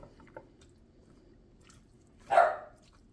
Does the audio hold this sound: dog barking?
yes